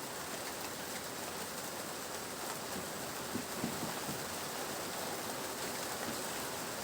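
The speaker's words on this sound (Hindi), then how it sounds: "बारिश का आवाज मोबाइल फोन में आ सकता है" Steady rainfall with a dense, even hiss of drops, fairly quiet and continuous, with no voices.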